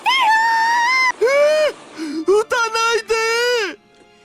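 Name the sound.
screaming and gunfire in video game Steins;Gate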